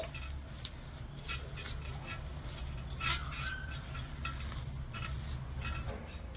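Semolina and grated carrot mixture being stirred in a pan over a low flame for carrot chamcham, a steady scraping stir with a soft sizzle underneath, close and continuous.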